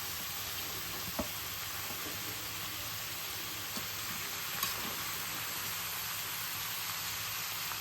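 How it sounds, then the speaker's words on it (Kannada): Onions, green chillies and tomatoes fry in a pan with a soft, steady sizzle, broken by a few faint clicks of stirring. "ಚೆನ್ನಾಗಿ ಫ್ರೈ ಮಾಡೋಣ"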